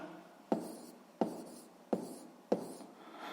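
A pen writes figures during a sixth-grade arithmetic lesson, giving four short, evenly spaced scratching strokes close up on a quiet background.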